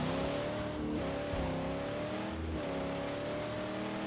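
A vehicle in the post-apocalyptic game Mad Max drives past with a steady, close engine drone that shifts pitch slightly as it moves by, running continuously with no talking.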